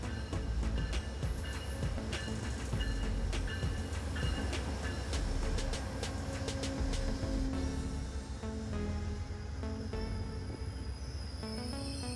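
Amtrak passenger train of five cars rolling out of Fort Worth, a steady close rumble of wheels on rails with rhythmic clicks and faint squeals, continuous throughout with no talk.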